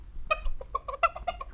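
Close, lively clucking from a hen, a quick burst of short, bright clucks that trail into a few more, heard alone.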